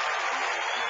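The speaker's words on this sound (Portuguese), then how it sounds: "Aplauda mais forte ao Senhor." Loud, continuous applause from a church congregation clapping harder for the Lord, a thick unbroken roar of many hands filling the room.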